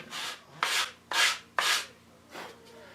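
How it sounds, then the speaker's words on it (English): A sander rasps across a mahogany guitar body in five rough strokes with short pauses, the first four strong and close, the last one softer. "I just need to sand this. Super cool. Let's"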